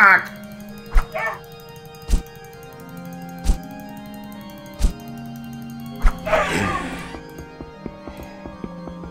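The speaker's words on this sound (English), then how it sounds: "you fucking shitty dog" A dog yelps and barks in an Inquisitor role-playing video game, heard as a few brief cries between sharp repeated thuds over steady background music.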